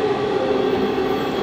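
Warsaw metro train at Plac Wilsona station, a loud steady rumble with a sustained tonal whine running through it, close and continuous with no talking.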